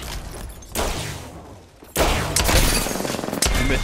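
A burst of rapid gunfire plays in a session of the Apex Legends video game. It starts after a brief lull and keeps going as a loud, dense run of shots, with a few sharp peaks.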